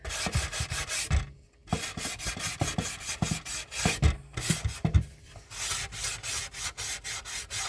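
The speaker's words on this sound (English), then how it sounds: "And this is really fine sandpaper." Fine sandpaper rubbing back and forth over soft wood, a steady run of close, rhythmic scratchy strokes with a few brief pauses and no talk.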